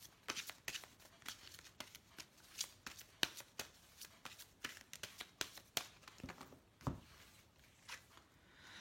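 A deck of angel oracle cards is shuffled by hand up close, with quiet, irregular bursts of riffling and sliding cards and no speech.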